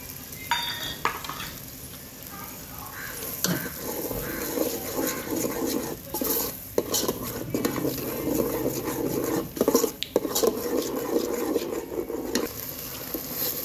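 Homemade masala paste with black masala stir-fried in oil for a Maharashtrian mutton curry, a steady low sizzle under repeated scraping and clinks of a spoon against the pan, close and fairly quiet, with no one talking.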